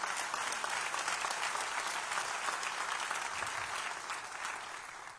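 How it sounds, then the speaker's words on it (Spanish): A church congregation gives a sustained burst of applause that stays dense and loud, then gradually fades toward the end, with no voices over it. "¿Cuánto le da un aplauso al Señor?"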